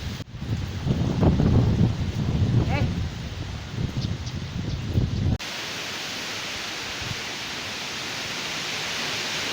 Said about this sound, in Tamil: பாருங்க, காற்று எவ்வளோ பலமாக அடிக்குதுன்னு.